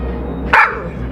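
A small dog gives a single short bark, clear and close, over a steady low background hum in a cartoon setting.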